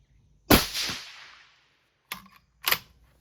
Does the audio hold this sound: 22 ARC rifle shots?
yes